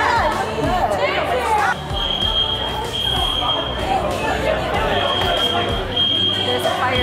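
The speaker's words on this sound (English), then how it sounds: "the alarm's going off and we all have to evacuate" A building fire alarm sounds during a fire drill, its high steady electronic tone repeating over loud crowd chatter and people talking nearby.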